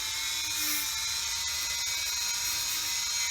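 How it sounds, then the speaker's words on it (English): A Dremel rotary tool fitted with a small disc bit grinds a part from a Nissan GTR front shock, a continuous high-pitched whine held steady for a few seconds. "I happen to have a Dremel on here with a little disc bit"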